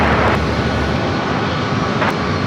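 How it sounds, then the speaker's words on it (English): Two Boeing 757 jets, 28 years old, one United and one Delta, taking off at San Diego airport, a loud sustained engine roar and rumble with broadband noise throughout. "Both these 757s that just started taking off here"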